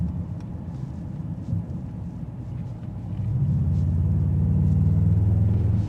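A Mercedes-AMG GLS 63 V8 SUV set to Sport Plus gives a steady low engine rumble that swells louder about halfway through into a sustained, heavier drone, heard alone without talk.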